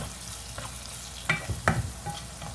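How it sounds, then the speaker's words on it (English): Onions frying in a pan while being stirred, a soft constant sizzle broken by a few scraping strokes of a spoon, close and quiet, with no talk. "You keep stirring. Just keep stirring it like that."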